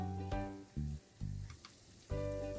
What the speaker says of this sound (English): As you can see, it's been simmering for 3 hours now.